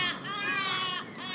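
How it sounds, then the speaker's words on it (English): Crows caw while feeding on a school basketball court, harsh raspy calls that run together in a loud, near, continuous burst with a brief dip before another rough caw. "These crows in the basketball court of SPS are feeding as well."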